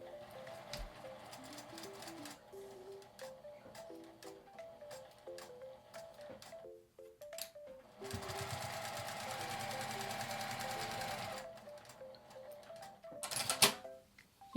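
A sewing machine stitches fabric in quick rhythmic bursts, stopping and starting, with one longer, louder continuous run in the middle. A light clatter comes near the end.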